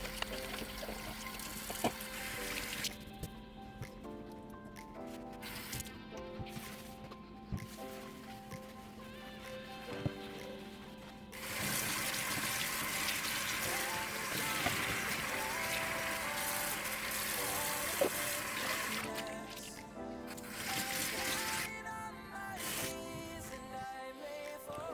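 Items being washed in water at a kitchen sink during a deep spring kitchen clean: steady pouring and trickling water with splashes, running beneath continuous background music for the whole stretch.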